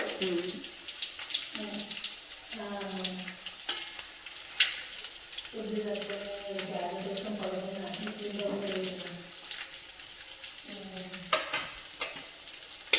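Garlic, onions and chillies fry in a pan with a continuous sizzle, broken by scraping and clattering as they are stirred, while a voice talks over the cooking throughout.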